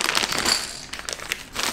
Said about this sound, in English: We keep our lures in these plastic bags.